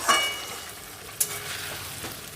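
A spice mixture with potato fries in a pan, giving a soft, steady sizzle with a couple of brief clinks from stirring, close and fairly quiet.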